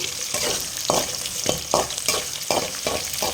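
Onions and peanuts frying in hot oil for mango rice, a steady bright sizzle broken by a regular series of scraping stirs roughly every half second, close and fairly loud with no talk.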